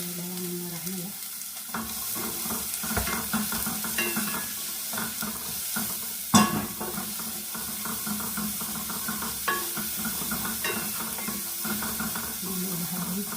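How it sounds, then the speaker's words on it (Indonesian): Shallots sautéing in butter in a pan, a steady loud sizzle with occasional stirring scrapes and clinks, close up, under faint background voices. "Udah ditaruh butter, sekarang mau ditumis-tumis dulu ini bawang merahnya ya."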